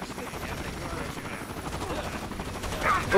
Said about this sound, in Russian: Сейчас еще минус один вертолет будет